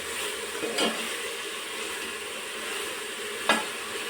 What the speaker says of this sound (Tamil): வெங்காயம், தக்காளி, கொஞ்சம் கருவேப்பிலை, இந்த இதெல்லாம் நல்லா வணங்கட்டும்.